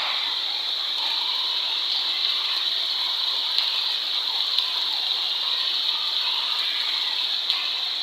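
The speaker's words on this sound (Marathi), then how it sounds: "पाऊस तर जोरात लागता आहे बघा" Heavy rain pours down steadily over a farm field where seeds have been sown, a dense, even hiss that continues unbroken at a moderate level with no voices.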